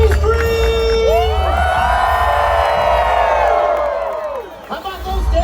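Audience screaming and cheering at Knott's Scary Farm, a loud close crowd roar with high shrieks and whoops that swells and then fades over a few seconds.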